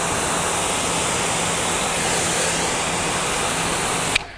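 A steady, loud rush of water spraying across a car to rinse off soap, continuous and close, ending with a brief knock before it drops away.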